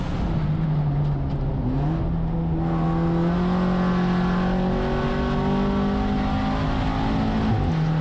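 A VW Jetta GLI super touring race car laps Thunder Hill Raceway, its loud, close engine note holding and climbing steadily through the gears as it accelerates, with no talking.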